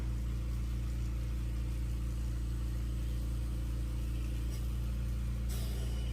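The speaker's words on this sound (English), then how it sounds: "Turning the speed down on the Electric Mandrel Spinner to make it a little more manageable when decorating." Electric Mandrel Spinner motor running at a constant low hum, steady and close throughout with no changes in pace, faint clicks near the end.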